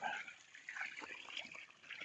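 Water streams steadily from a Bakki camp shower with Trickle Tower, a close, continuous splashing hiss over about two seconds with no talk.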